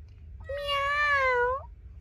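A pet cat lets out a single drawn-out, pleading meow, close and clear, with a faint low hum beneath and no talking.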